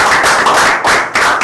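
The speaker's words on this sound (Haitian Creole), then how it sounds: "Yo réponse ça gain là on applaudit s'il vous plaît." A live audience claps for a Haitian Creole rap performer, a burst of dense, loud hand-clapping that swells and dips in a few short waves, with no voices over it.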